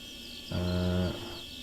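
A calf in the farming simulator Pure Farming 2018 lets out one short, deep moo that lasts about half a second over a soft, constant outdoor ambience.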